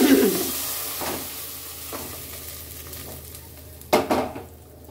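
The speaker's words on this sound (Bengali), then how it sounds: "এবার আমি এই মশলাটা সেদ্ধ ডালের মধ্যে মিশিয়ে দেব।" Sizzling spice tempering stirred into boiled arhar dal, a soft bubbling hiss with scraping stirs and a couple of louder clanks of a spoon against the pot near the end, close up, no speech.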